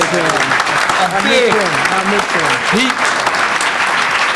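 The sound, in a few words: audience applause honoring Yuji Ichioka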